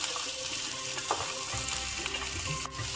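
Garlic and red chillies fry in a hot pan for chilli garlic pickle, giving a steady close sizzle with a few louder crackles and stirring scrapes and no talk.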